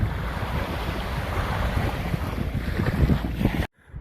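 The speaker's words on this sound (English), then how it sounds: "Queenscliff to Sorrento ferries" The Queenscliff to Sorrento ferry moves on open water, with a broad wash of waves and hull rush mixed with strong wind buffeting the microphone, steady and fairly loud until the sound cuts off abruptly near the end.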